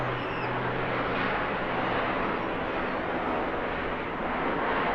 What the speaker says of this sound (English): Oh, the sound of jet on what is an extraordinary and very small biplane.